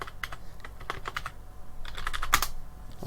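Keys clatter on a computer keyboard in quick, uneven bursts of clicks, close and fairly crisp, with brief pauses between short runs of typing and no voices.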